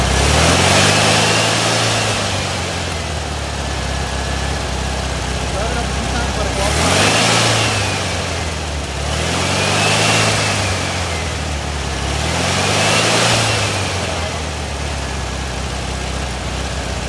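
VW engine fitted with a Solex 34 PICT carburetor revs high in three or four repeated swells, each rising and falling over a steady idle, loud and close, with a voice speaking at times.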